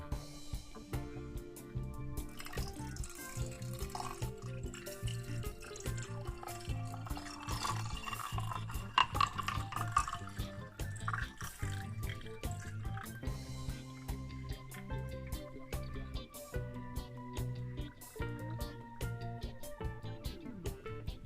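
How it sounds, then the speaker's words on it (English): Liquid poured steadily into a glass for a long stretch, a continuous gurgling fill with small drips and splashes, close by. "I'm gonna pour some in my glass."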